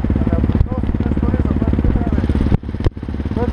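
Motorcycle on a December ride, its engine buzzing loud and close with rapid pulsing, cutting off briefly twice near the end, with people talking over it.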